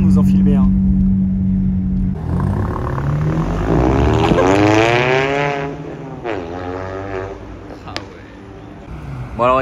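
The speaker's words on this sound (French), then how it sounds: "Regardez le nouveau SL63 là, c'est ça qu'on n'aura pas souvent encore." A Mercedes-AMG SL63 drives by on a Paris street at Trocadéro, its engine note rising and sweeping through as it passes close, with a person talking over much of the pass.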